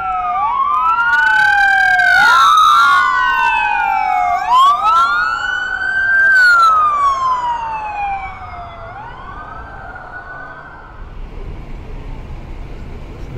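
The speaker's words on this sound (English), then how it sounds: "Lots of sirens responding from all over the city." Several police and emergency vehicle sirens wail and yelp through city streets near the US Capitol during a bomb threat response, overlapping rising and falling tones from moderately near to farther away over steady traffic rumble.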